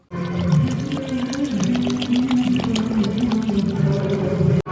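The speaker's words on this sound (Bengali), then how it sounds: "এক কেজি আতপ চাল সেটাকে জল দিয়ে খুব ভালো করে ধুয়ে ভিজিয়ে রাখবো" Raw rice being rinsed with water by hand, a steady close sloshing and pouring of water that runs unbroken for several seconds with no talking.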